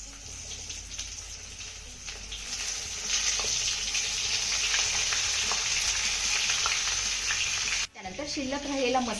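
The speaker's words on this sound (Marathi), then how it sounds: "फोडणीमध्ये ना आपल्याला वाफवलेली वांगी घालायची आहे." Steamed eggplant goes into hot oil tempered with cumin and curry leaves. The sizzle swells sharply and holds loud with stirring, then breaks briefly before a voice speaks over renewed frying.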